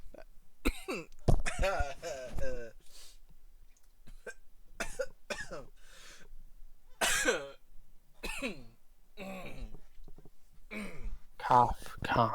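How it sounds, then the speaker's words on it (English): Sharp bursts of coughing and throat clearing are scattered between stretches of speech, close and fairly loud with short quiet pauses. "Cough, cough, cough."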